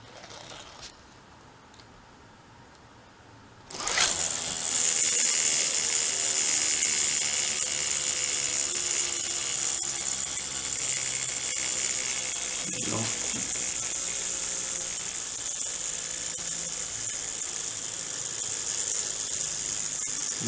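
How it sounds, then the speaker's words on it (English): A gyroscope rotor spins on a self-balancing structure, a steady loud high whirring hum that starts abruptly a few seconds in and holds for the rest, with a brief knock partway through. "as long as the rotor is spinning, there's enough momentum"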